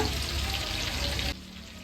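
Fried chilli chicken is stirred in a hot pan, giving a loud continuous sizzle with scraping that drops off abruptly near the end.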